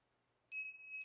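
A laser projection keyboard powering on gives one steady, bright electronic beep. It begins midway after near-silence and holds clean and alone to the end.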